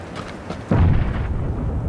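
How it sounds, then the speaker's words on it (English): A video game grenade detonates with a sudden deep, rumbling boom midway through, its low roar lingering and slowly fading over background game noise. "I threw a grenade."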